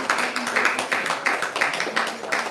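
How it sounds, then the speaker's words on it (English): Audience applause at a Sunday feast class in a temple hall, a dense steady round of clapping with rhythmic surges throughout, fairly close and loud. "Let's give a round of applause to this."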